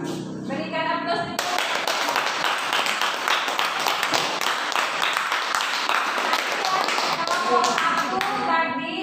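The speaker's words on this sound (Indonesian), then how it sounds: "Berikan aplaus." Classroom applause breaks out after a student group's presentation: a dense, steady burst of many hands clapping together, loud and sustained for several seconds, with faint voices before and after.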